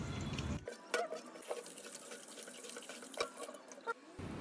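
Raw chicken being rinsed under running water in a kitchen sink before pickling: a steady broadband gush of tap water with a few brief splashes, starting and stopping cleanly, close by with no talking.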